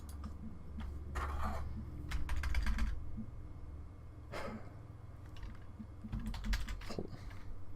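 Bursts of computer keyboard typing, quick clusters of key clicks separated by short pauses, close by over a low hum.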